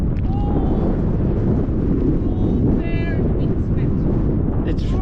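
Strong wind roars across open, wild and bare Southland countryside in New Zealand, a loud, steady low rumble buffeting the microphone throughout, with faint tonal whistles drifting over the top.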